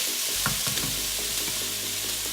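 A keto stir fry sizzles steadily and loudly in a hot pan, with soft clicks and scrapes of stirring scattered through the constant hiss.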